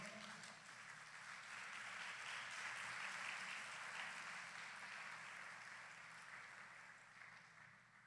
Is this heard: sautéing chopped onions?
no